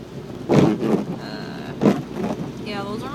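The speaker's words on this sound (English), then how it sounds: "Yeah, those are my wipers." Car windshield wipers sweep through rain in a small town, two loud rhythmic swishes about a second apart over a steady wash of rain, with faint voices behind.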